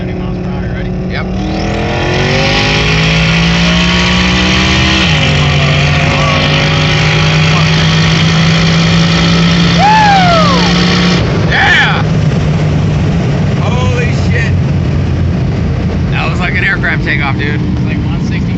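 Loud twin-turbo Coyote 5.0 V8 in a 1000+ horsepower Ford Mustang pulling hard from a 70 mph roll, engine pitch climbing steadily through gears with wind roar, heard from inside the car with voices underneath.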